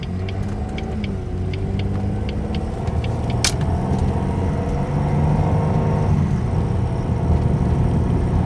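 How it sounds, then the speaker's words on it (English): A 2003 Jaguar X-Type on the road, heard from inside the cabin as a steady engine hum and road rumble, with light rattles and a faint plastic rubbing noise. "But the vehicle is driving just fine, actually."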